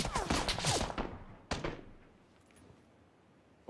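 Video game gunfire in PUBG during a squad match: a burst of rapid shots opens, then a single sharp crack follows, then the sound fades into quiet before a final hit at the end.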